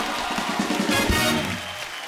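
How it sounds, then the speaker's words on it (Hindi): A studio audience at a comedy talk show bursts into loud, dense applause, with a few tonal bits of music or cheering mixed in before it eases slightly. "एक बार रणवीर सिंह के लिए जोरदार तालियां हो जाए"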